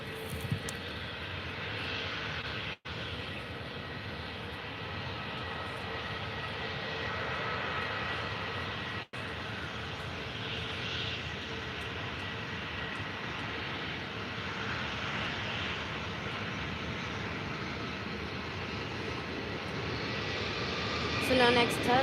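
A Boeing 737 MAX 8 at Faro airport gives a steady, sustained jet engine roar that holds evenly for over twenty seconds, broken by two brief dropouts and swelling slightly near the end.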